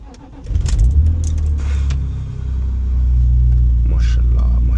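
A BMW E46 M3 engine cranks and fires up, settling into a loud, deep, rumbling idle that swells slightly, with faint clicks and brief knocks over it.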